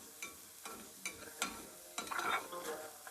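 Masala Maggi noodles cooking in a pot, with a run of scraping stir strokes and soft sizzling, clattering utensil knocks at intervals and a busier burst of stirring near the end, close and fairly quiet.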